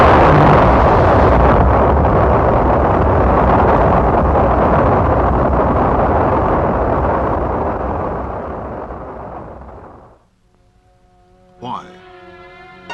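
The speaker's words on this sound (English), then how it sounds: "This launch carried an Earth satellite into orbit." A rocket launch lofting an Earth satellite into orbit: a loud, sustained broadband roar that holds steady for about ten seconds, then fades away into near silence, followed by a faint closing bit of music.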